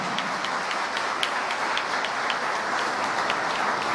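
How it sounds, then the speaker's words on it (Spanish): Dense, even applause from an audience at a university law school opening session, a constant wash of many hands with sharper claps popping through and no talk. "Fuerte el aplauso para ella."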